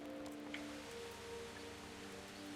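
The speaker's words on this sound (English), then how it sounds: "it sounds like it's raining" Steady rain falls in a video game, a dense even hiss of drops with low tonal hum underneath, continuous and fairly quiet with no talk.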